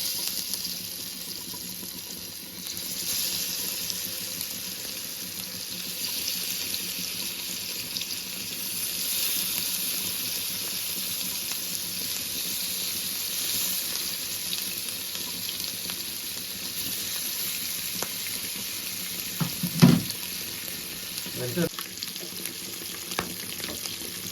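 Chanduva fish pieces fry in hot oil with a continuous, even sizzle and hiss, broken by a couple of brief utensil clatters late on, with no talking.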